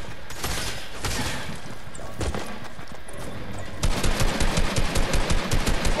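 Gunfire in an online multiplayer shooter match: sustained bursts of rapid automatic fire, loud and close, rising into a dense rhythmic volley toward the end, with no talking over it.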